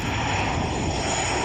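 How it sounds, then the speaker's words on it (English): A passenger airplane passes close overhead during planespotting, its engine roar a steady, loud, broadband rumble throughout with no talk. "You bored of airplanes yet?"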